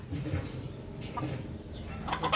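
Several backyard chickens cluck and squawk close by at feeding time in short, irregular bursts over a low rustling background, growing busier toward the end.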